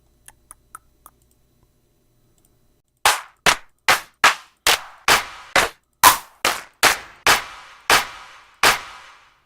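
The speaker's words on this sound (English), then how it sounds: "Let's go lay in some claps." Sampled drum-machine claps from an NI Maschine: four faint ticks, a short pause, then about a dozen loud, crisp clap hits in an even rhythm.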